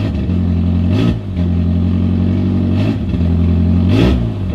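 A Hyundai Genesis Coupe running on ethanol idles roughly right after starting, a loud, steady engine drone close by with a few brief surging blips in revs.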